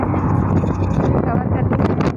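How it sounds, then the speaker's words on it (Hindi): Strong wind buffets a microphone while riding on a moving vehicle, a loud, continuous rough roar that fluctuates throughout, with speech likely mixed in under the gusts. "अभी गाड़ी पे है ना, तो यहाँ पे काफ़ी हवा चल रही है तेज़"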